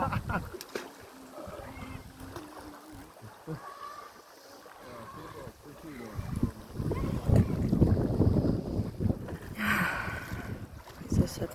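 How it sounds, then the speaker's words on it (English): Wind blowing outdoors during a family day out in nature near old castle ruins, rushing gusts that swell and buffet the microphone, with people talking faintly underneath. "And I get that beautiful wind."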